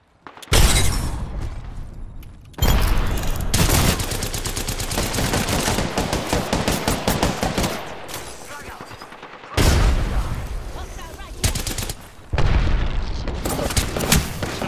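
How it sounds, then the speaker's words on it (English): Video game gunfire in dense bursts of rapid automatic shots and heavy booms, loud and close, separated by short pauses, with voices talking over parts of the action. "There's a lot of bang bangs"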